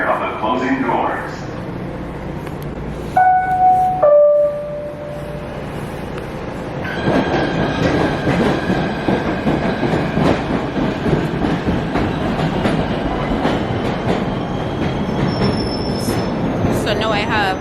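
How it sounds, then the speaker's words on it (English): A New York City subway train: two-tone door chimes ring out, then the car rolls off with a steady loud rumble, rattling and high wheel squeals, while voices speak over it. "This is the train to 33rd Street. Stand clear of the closing doors."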